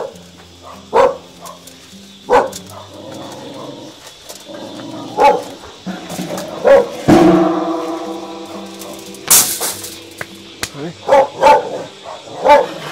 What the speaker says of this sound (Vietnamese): vào trong là có chó đó